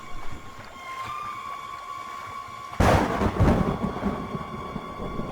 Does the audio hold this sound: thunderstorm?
yes